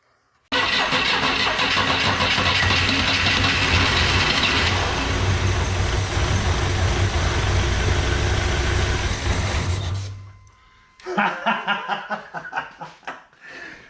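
A junkyard car's engine cranks and catches, then runs loudly and steadily for several seconds before cutting off, followed by bursts of laughter.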